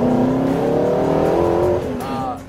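A Spyker C8 sports car accelerates hard, its engine note rising steadily through the revs before a brief dip and a quick chirp as it shifts into second gear, loud and close from inside the car.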